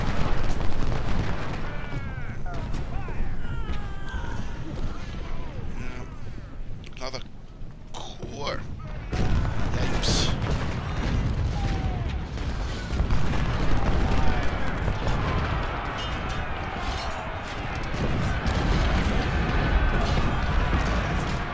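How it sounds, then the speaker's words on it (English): Artillery booms and rolling cannon fire in the Civil War strategy game Ultimate General: Civil War, dense overlapping blasts forming a continuous loud battle roar. "a little bit of artillery"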